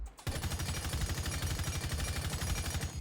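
M762 rifle fitted with a muzzle brake, fired in Rainbow Six Siege, one rapid sustained automatic burst of tightly spaced, evenly rhythmic shots lasting about three seconds, loud and close with no talking.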